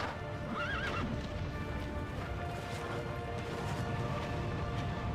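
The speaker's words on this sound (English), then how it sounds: "Fucking Artex, stupid horse!" Horse whinnying in Castlevania Lords of Shadow, a clear rising neigh near the start over hoofbeat clip-clops and a dense, continuous game soundscape of rumbling and crashing.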